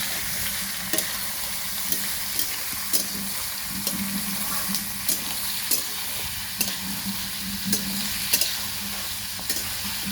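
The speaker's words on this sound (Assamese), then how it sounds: "এয়া চাওক মাংসটো পুৰা ফ্ৰাই কৰি আছে, ভাজি আছে পুৰা।" Steady close sizzling of meat frying in a pan, with regular spoon scrapes and light knocks every second or so throughout.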